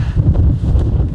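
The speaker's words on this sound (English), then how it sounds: "So windy, so dusty." Wind buffets the microphone at a dusty outdoor lunch stop, a loud low-pitched rumble that surges and dips in irregular gusts throughout, with no voices.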